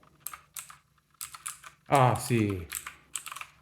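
Clacky bursts of typing on a cheap Battletron mechanical keyboard with blue switches, quick clusters of crisp key clicks, with a short spoken exclamation in the middle.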